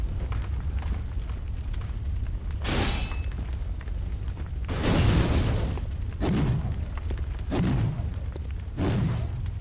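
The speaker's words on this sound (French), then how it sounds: "marteau à explosion" Explosion hammer blasts in the video game Bloodborne, several separate booming bursts spaced a few seconds apart, each a short, heavy crunch over a low background rumble.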